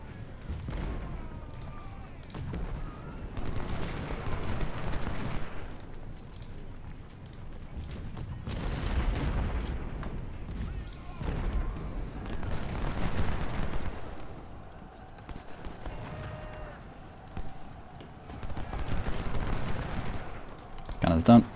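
Cannon artillery fire in the Ultimate General Civil War video game, repeated rumbling booms and crackling volleys in long bursts with some gaps, steady and moderately loud, with occasional talk over it.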